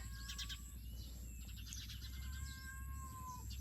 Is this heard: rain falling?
no